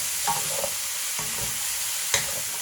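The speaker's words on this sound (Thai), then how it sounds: "หลังจากนั้นก็ ใส่เห็ดไทยลงไปเลย คลุกเคล้าให้เข้ากันเลยนะคะ" Thai mushrooms being stir-fried in a pan, with soft sizzling underneath and a few distinct scrapes and clanks of the utensil tossing them, fairly quiet and without voices.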